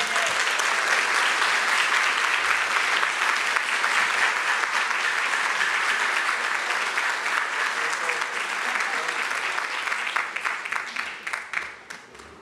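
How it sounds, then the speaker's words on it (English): Sustained audience applause at an educational leadership graduation ceremony after a student speaker finishes, dense even clapping holding steady before thinning and tapering off at the close. "Let's give one more applause for Marisol."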